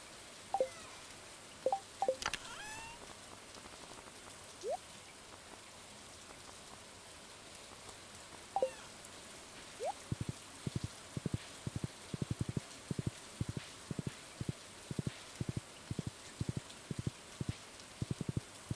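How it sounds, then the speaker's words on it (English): Soft rain ambience from a video game, a constant gentle hiss with occasional chirps early on, then a run of regular dripping raindrop taps in the second half, quiet and without speech. "I've forgotten how relaxing the game is with the rain sound effect."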